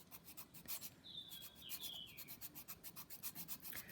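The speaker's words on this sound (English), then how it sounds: "I'm going to file angled with my 100 side, 100 grit file" Rhythmic rasping strokes of a 100 grit nail file filing an artificial nail at an angle near a lifting area, close and steady, with faint bird chirps in the background.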